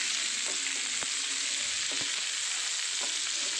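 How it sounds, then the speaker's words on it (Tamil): Small shallots and half a large onion sautéing in oil left from frying chicken: a steady, close hiss of sizzling with a few soft stirring knocks at roughly one-second intervals, no voices. "இப்போ சிக்கன் வறுத்த எண்ணெயிலே நான் வந்து இதை வதக்கிட்டுருக்கேன்."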